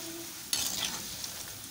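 Moong dal fritters bubbling in hot oil, a steady fine sizzle that jumps louder about halfway through as they are turned over, then keeps hissing evenly at close range.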